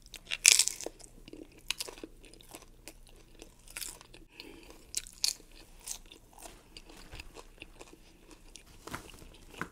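Crunchy nacho chips chewed up close, a steady run of crisp bites and crackling crunches at varying loudness, alone with no talk.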